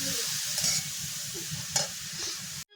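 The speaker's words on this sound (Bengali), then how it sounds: "এরকম ভাবে হালকা করে নেড়ে চেড়ে নেব। নাড়তে নাড়তে দেখবে গাজরটা কমে আসবে।" Grated carrots for carrot halwa are stirred in a pan, the spoon scraping in a steady rhythm over a soft constant sizzle, with a couple of sharper clinks along the way before a sudden stop.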